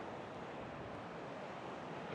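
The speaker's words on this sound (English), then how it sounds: "the waves every now and then push enough water up, and it fills that little pool" Ocean waves wash up a beach and spill into a small rock pool, making a continuous dense roar mixed with wind buffeting the microphone, steady throughout with no speech.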